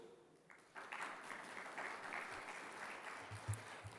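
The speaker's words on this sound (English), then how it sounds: "So if you could just give Robert a round of applause." Audience applause for a keynote speaker, the CEO of Luca Inc., at a Vertex Events conference in Dubai, rising after a quiet start into steady, fairly faint clapping across a large hall.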